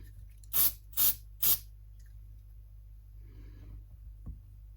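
Three short, sharp aerosol spray bursts, evenly spaced and close by, during setup work on an Alvarez acoustic guitar, followed by quiet handling noises over a low steady hum.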